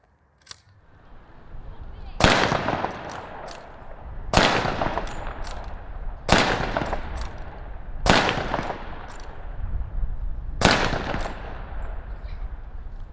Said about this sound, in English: Now, that's a Mauser rifle, only holds 5 rounds in the magazine there, and Jake will fire this off